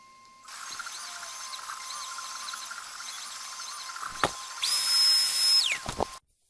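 A CNC spindle spins up to mill a printed circuit board, a high steady whine with a sharper rising shriek partway through and a few clicks before it cuts off.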